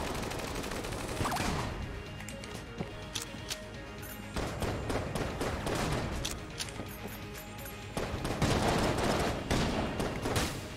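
Gunfire in the Enter the Gungeon video game, rapid strings of shots in several bursts with pauses between, played over steady game music at moderate loudness.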